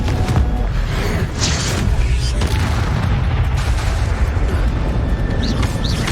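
A Confringo blasting spell goes off in Hogwarts Legacy, a deep boom and burst set within dense, continuous game noise, with a few sharper pops scattered through.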